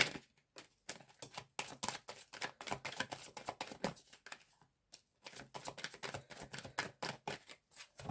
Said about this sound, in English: I want one more shuffle.